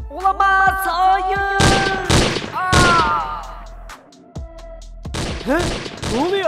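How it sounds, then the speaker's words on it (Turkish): Bursts of gunfire crack repeatedly through a tense Minecraft soundscape while someone speaks in startled, short exclamations between the shots. "O silah sesi nereden geldi?"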